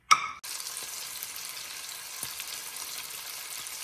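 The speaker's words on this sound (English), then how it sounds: "we'll throw the bacon in there and let it start cooking" Bacon pieces frying in a stock pot over medium to medium-high heat, a steady close hiss that starts abruptly after a short clatter and continues evenly, with no talking.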